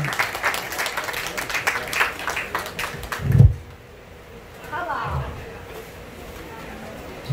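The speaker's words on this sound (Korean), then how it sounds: "박수 한번 쳐주세요." Audience applause at an outdoor Pumba folk performance in Pohang, a burst of many clapping hands that stops abruptly after about three seconds, followed by a low thump and quiet crowd murmur.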